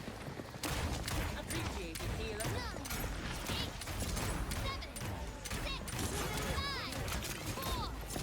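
Gunshots in Paladins on the Stone Keep map, a continuous frantic barrage of game weapon fire mixed with ability effects and crashes, steady and busy throughout.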